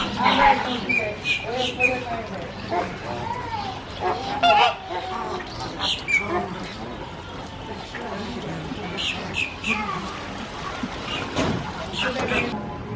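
Birds at Gatorland, an alligator park, honk repeatedly in short irregular bursts, moderately close and mixed with outdoor ambience, while people talk throughout.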